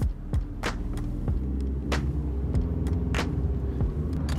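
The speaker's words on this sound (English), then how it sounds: "There's like a lot of cars just cramming into this smaller At road." Many cars crowd a small road at night, heard as a steady low engine rumble and hum from inside a Tesla Model 3, with scattered ticks and clicks over the top.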